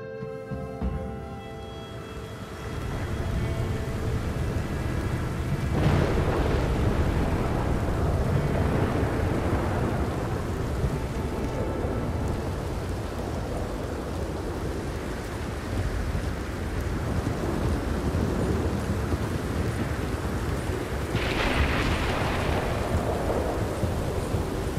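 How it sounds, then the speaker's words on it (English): Thunderstorm in the video game Red Dead Redemption: steady heavy rain hiss throughout with rolling thunder swelling twice, loud and continuous with no talking. "There's an awesome thunderstorm,"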